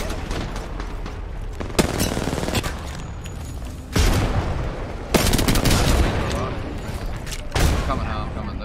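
Gunfire rattles through a match of the video game Apex Legends in repeated bursts, with several sharper loud volleys standing out over a dense, busy background of game noise.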